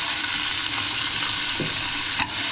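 Cut goat head pieces sizzle loudly in a hot pot for a village-style curry, a dense, steady frying hiss with a couple of brief stirring clatters mixed in, and no voices.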